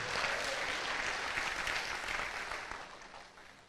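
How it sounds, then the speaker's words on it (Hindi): Applause from a seminar audience fills the room, a dense steady clatter of many hands that holds strong before slowly thinning toward the end. "एक जोरदार तालियां होनी चाहिए आपके लिए।"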